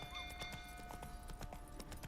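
Roach the horse galloping in The Witcher 3 with a castle burning nearby, a fast steady run of hoofbeats clopping under a faint background tone, low in level.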